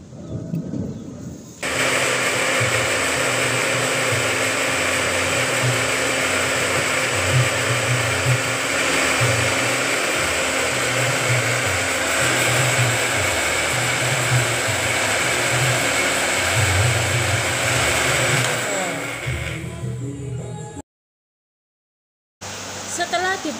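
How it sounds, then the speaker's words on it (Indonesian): A blender grinds aloe vera pieces without water, roaring loudly and steadily for about twenty seconds close by, then cuts off abruptly into silence before a brief restart. "Jangan lupa blender sampai halus."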